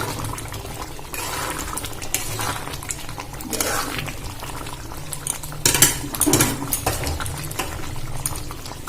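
Soybean curry with chopped coriander is stirred in a pan over a village cooking fire, a steady bubbling simmer broken by scattered scrapes and clinks of a spoon against the pan, with no talking.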